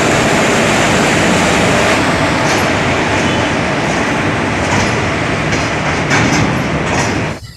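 A train at Ranchi junction platform, loud and steady throughout with rumbling rail noise and faint clacking, cutting off abruptly at the very end.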